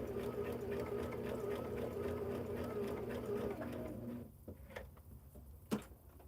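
Sewing machine stitching quilt pieces, a quiet steady mechanical hum that runs for about four seconds and then stops, followed by a few faint clicks and knocks.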